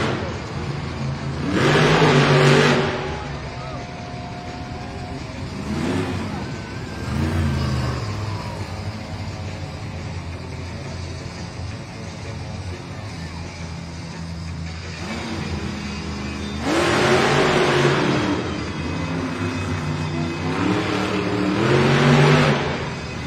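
El Toro Loco, the Crazy Bull monster truck driven by Abe Galvin, revs loudly in bursts at a Monster Jam arena event in Spokane, with long surging roars separated by lower idling rumble and an announcer's voice faintly beneath.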